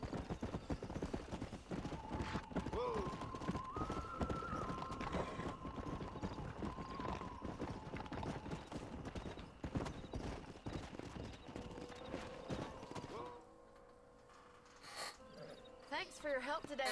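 A horse in Red Dead Redemption 2 trotting with steady clip-clop hoofbeats and a faint whinny, under game music and crickets, with a lull near the end.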